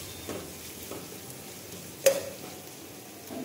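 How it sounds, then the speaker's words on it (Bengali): Elephant foot yam chips frying in a pan while being stirred constantly, a soft low sizzle broken by quiet scraping strokes and one sharp clink of the spoon, close and without talk. "ওলগুলো দেওয়ার পরে খুব নাড়তে হবে, মানে নেড়েই যেতে হবে"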